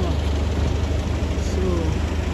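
A London bus in Plumstead pulls in at a street bus stop, its heavy engine rumbling and idling steadily up close, with faint background voices.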